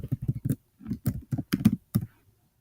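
Fast typing on a computer keyboard, close up, with bursts of crisp key clicks in an irregular rhythm and short gaps between them.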